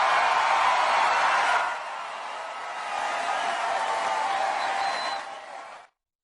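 Cheering crowd at a presidential campaign announcement at Miami-Dade College Kendall campus, a loud, dense roar of voices that eases slightly, swells again, then cuts off abruptly.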